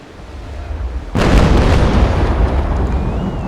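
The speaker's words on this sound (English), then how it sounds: "here's our old friend, broadside. So yeah, let's give him one" A sailing warship's broadside cannon volley in Naval Action erupts abruptly into a loud, sustained booming roar that keeps rumbling for a couple of seconds.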